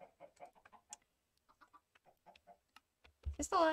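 Chickens on a Minecraft game farm, a couple of short clucks arriving near the end after quiet stretches of soft talking.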